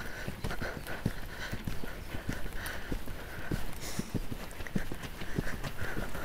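Horse hooves clip-clopping steadily in an indoor riding arena as the horse works through turns, circles and diagonals, with a regular rhythm of moderately close, distinct hoofbeats and no talking.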